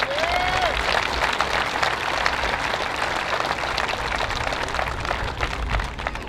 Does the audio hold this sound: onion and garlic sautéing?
no